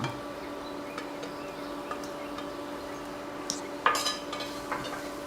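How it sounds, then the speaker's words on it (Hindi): A spoon stirs grated paneer into masala in a metal pan, making soft scraping ticks and light clinks. A sharper clatter comes near the end over a faint steady hum. "तो पनीर ने अपन मिक्स कर लिया"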